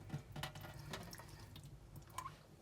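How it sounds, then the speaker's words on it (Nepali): Water draining and dripping from freshly washed chicken wings in a kitchen, faint trickles and scattered drips that come close together. "पानी मजाले तर्काउने।"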